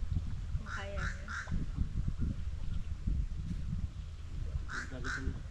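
Crows caw at a campsite in short bursts, three quick calls then two more later, under a low rumble of background talk and noise.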